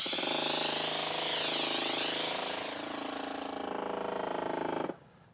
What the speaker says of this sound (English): When you start spraying, it's going to rapidly lose pressure because it's too thick.